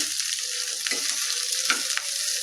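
Poppy seeds frying in a pan over medium heat for a bottle gourd curry, giving a steady sizzle with a few soft stirring scrapes and no voices.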